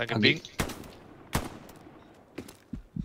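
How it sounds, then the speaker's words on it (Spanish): Sharp gunshots in the World War II shooter Hell Let Loose, a few separate cracks spaced irregularly, some close and loud, others fainter and farther off, with a voice briefly at the start. "Me están disparando, eh"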